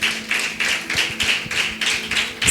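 A congregation claps together at a church service, steady rhythmic claps roughly every quarter second, fairly loud and close, with no talk over them.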